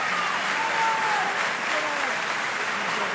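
Crowd at a South Africa U20 versus Wales U20 rugby match applauds in a steady broad wash of clapping lasting a few seconds, with faint voices underneath.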